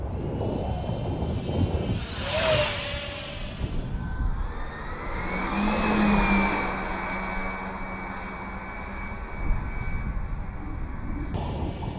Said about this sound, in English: Such a great flying plane.